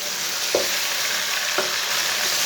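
Tomatoes, green chillies and kasuri methi sautéing in a pan, producing a loud, continuous close sizzle broken by two brief stirring knocks.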